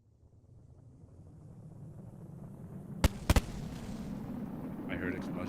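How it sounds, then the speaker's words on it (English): An explosion in a space flight video game: a sharp triple crack around the three-second mark, loud against a steady rising wind-like rumble that fills the rest of the short stretch. "I heard explosion."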